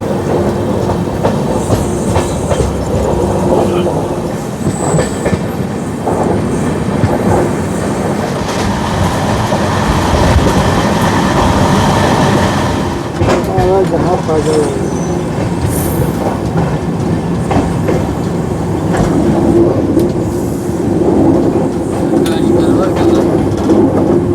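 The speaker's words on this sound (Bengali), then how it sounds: "আমরা শিয়ালদা থেকে 574 কিলোমিটারের ট্রেন জার্নি সম্পূর্ণ করে নির্ধারিত সময়ের থেকে মাত্র 22 থেকে 23 মিনিট লেটে এসে পৌঁছালাম" Train 13185 running on the Sealdah–Kolkata to Nepal route gives a loud, continuous rumble with rhythmic clickety-clack of wheels and occasional squeals, heard from inside a carriage with some faint voices in the background.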